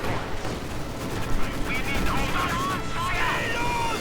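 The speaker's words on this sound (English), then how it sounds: "Panzer is actually taking mortar fire" Heavy mortar fire striking a Panzer tank in a war video game, heard as a dense, rumbling barrage of blasts and gunfire under a constant noisy battle wash, with a few sharper impacts standing out.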